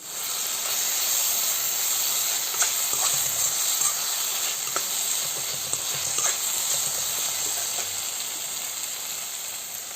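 Onions and rava (semolina) fry in oil in a pan with lemon and turmeric for Andhra-style upma, a loud constant hiss and sizzle close up with faint scraping taps of stirring.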